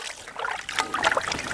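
Water poured into a pot of country chicken liver, a brief splashing trickle lasting just over a second, close and fairly loud with no voices.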